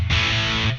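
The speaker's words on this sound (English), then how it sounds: "I can turn on the onboard distortion." An electric guitar through the onboard distortion of a NUX Cerberus multi-effects pedalboard rings out in a single loud, saturated chord that sustains for under a second, alone.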